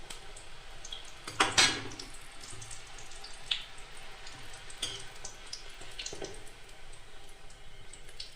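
Beetroot luchi deep frying in hot oil gives a steady close sizzle and bubbling hiss, with a brief louder burst of spattering early on and a few smaller pops later.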